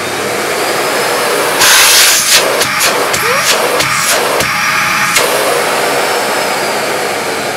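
A Sebo Airbelt K3 Premium Eco cylinder vacuum cleaner switches on with a loud broadband whoosh that settles into a steady hiss, broken by several brief pulsing dips as the airflow changes, then running on evenly.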